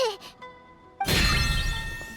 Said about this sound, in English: Why is the bell ringing all of a sudden?